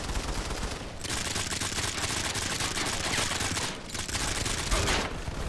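Sustained automatic gunfire in the mobile shooter Modern Combat 5, dense and loud nearly throughout, with two brief lulls around the first and fourth seconds.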